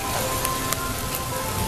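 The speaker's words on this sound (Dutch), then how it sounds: "het hagelt nu echt heel erg hard." Dense hard pattering of hail drumming on surfaces at the Efteling theme park, steady and loud, with a few sharper individual impacts standing out.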